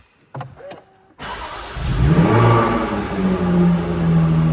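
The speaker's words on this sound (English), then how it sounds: "The lovely note of the V6 exhaust there as the car comes to life" Supercharged V6 of a Jaguar F-Type 400 Sport starts up after a brief whir and click, catching with a loud burst and settling into a deep, rumbling exhaust note at idle, close and steady.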